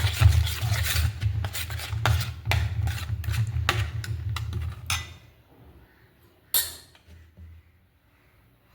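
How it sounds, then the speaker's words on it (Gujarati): Ingredients for bottle gourd (dudhi) thepla dough, including yogurt and homemade garam masala, are crushed and mixed in a bowl. Rapid, close rasping and rubbing strokes fill the first five seconds, then stop, leaving near-quiet with one brief scrape. "હવે આ બધું આપણે ક્રશ કરી બધું મિક્સ કરી અને પછી આપણે લોટ બાંધીએ."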